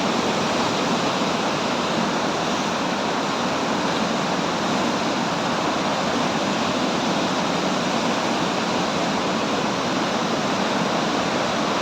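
Dhuandhar waterfall pours with heavy water pressure over white marble rock, a dense, unbroken roar of rushing water that stays loud and steady throughout.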